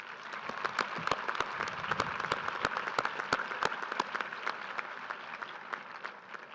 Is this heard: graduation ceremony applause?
yes